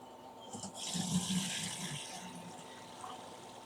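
Liquid is poured through a colander into a bucket, a short gushing splash that swells and then trails off, close and moderately loud.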